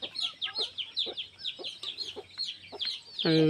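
Several chickens cluck in quick, overlapping bursts while feeding, close by, with a louder squawk near the end.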